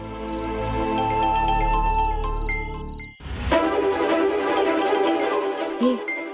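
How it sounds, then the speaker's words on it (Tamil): A phone ringtone for an incoming call in a Tamil TV serial, a tinkling, jingling melody that plays loudly for about three seconds, then gives way to dramatic background music. "யார் இந்த நேரத்துல போன் பண்றது?"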